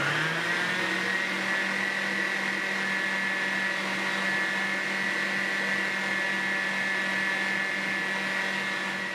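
A blender runs continuously while mixing a charlotte dessert batter with vanilla essence, a steady loud motor whir with a high whine, unchanging throughout and heard alone.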